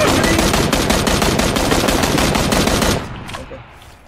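Automatic gunfire in PUBG, a dense rapid burst of loud shots lasting about three seconds before cutting off, leaving fainter scattered sounds and a tail.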